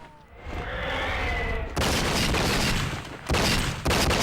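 Gunfire in the video game True Crime: Streets of LA: loud, dense bursts of shots that swell, cut out briefly, then resume in heavy volleys.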